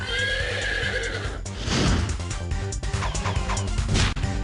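A single horse whinnies loudly as a sound effect in a trivia quiz video game, a long shrill neigh followed by snorting and what sound like hoof clatters and a crash, with no voices.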